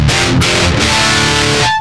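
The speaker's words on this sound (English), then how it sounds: "without Space Designer, our Revv G4 going into a transparent amp sounds like this" Distorted electric guitar played through a Revv G4 overdrive pedal into a transparent amp with no cabinet simulation, a dense, buzzy chord passage ringing steadily and loud for about two seconds with no talking.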